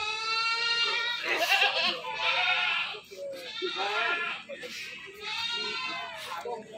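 Goats bleat repeatedly at a busy Indonesian goat market in Kebumen, several loud, wavering close calls in quick succession with people talking in the background.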